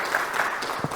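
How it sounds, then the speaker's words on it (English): Audience at a software testing talk claps for speaker Kari at the end of the session, a brief, steady patter of many hands, moderately loud and slightly distant. "Applause, everyone, for Kari."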